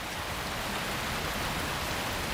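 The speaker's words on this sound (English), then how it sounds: "Over the coming weeks, the rain will steadily increase." Rain falls steadily over monsoon marshlands, a continuous, even wash of broadband hiss that stays uniform from start to finish with no voices.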